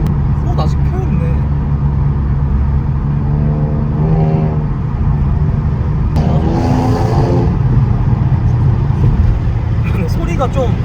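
A Kia Stinger's engine revving hard under acceleration during a test drive, a loud sustained drone that rises in pitch across several climbs, heard from inside the cabin with people talking over it.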